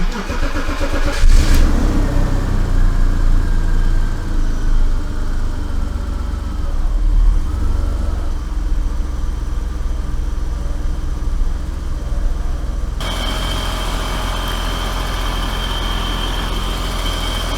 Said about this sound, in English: start the car and see how it goes.